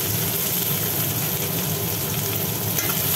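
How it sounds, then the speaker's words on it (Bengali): Onion dropped into hot oil for a spicy tilapia fish curry sizzles and crackles steadily, a dense, close frying hiss with faint stirring and no talk. "এবার ছাড়লাম পেঁয়াজ, তেলের মধ্যে পেঁয়াজ দিলাম।"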